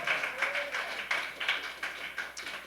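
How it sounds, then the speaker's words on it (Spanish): A congregation claps during a church service. The applause is fairly faint and has a loose, rhythmic beat, with about eight distinct clap peaks running through the whole stretch. "Dale un aplauso a Dios si tú crees eso"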